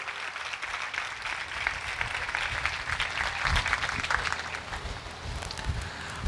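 A church congregation at a live sermon breaks into loud, sustained applause that swells in the middle and holds steady for several seconds, with no talk over it.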